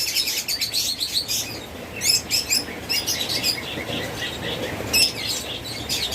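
Pet lovebirds, cockatiels and budgerigars kept as breeding pairs chirp in quick, high bursts, several birds overlapping in irregular clusters, close by and moderately loud over a faint background hum.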